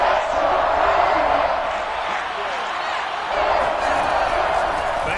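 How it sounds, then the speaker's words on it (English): Stadium crowd noise in a Madden football video game, a steady, loud roar of cheering and shouting that swells slightly near the end, with a commentator talking over it. "Crowd getting in it a bit already."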